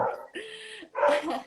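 A dog barks indoors in short loud bursts, a few sharp yelps and a whiny bark close to the microphone, while a person speaks briefly over it.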